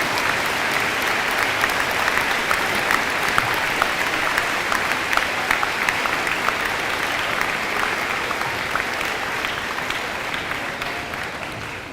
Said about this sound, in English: Please join me in another round of applause for these veterans.